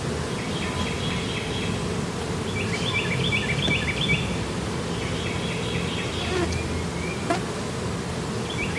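Steady, dense buzzing of many bees during a Layens hive inspection fills the scene continuously, close and moderately loud, with a few faint bird chirps in the background.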